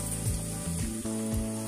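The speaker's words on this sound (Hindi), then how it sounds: "साथ ही में हमारा तड़का भी फ्राई हो रहा है।" Tadka spices fry in hot oil in a home kitchen, giving a steady close sizzle with soft crackling, heard alone.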